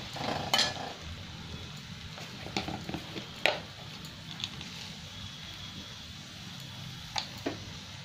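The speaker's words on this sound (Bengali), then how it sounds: "এবার টমেটোকে ভালো করে আমি ভেজে নেব যতক্ষণ না তেল ছাড়ছে আমার" Chopped tomatoes with salt fry in oil in a pan, giving a quiet, steady sizzle with a few sharp clinks and stirring scrapes scattered over it.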